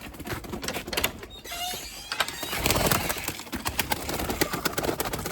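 Limoni breeding pigeons coo and rustle nearby in a noisy loft, their soft calls mixed into steady background clatter with no speech.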